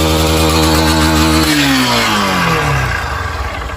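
A loud motorcycle engine with a faulty, noisy motor, smoking from the exhaust, revs steadily and then drops in pitch as it winds down, close and alone with no talk.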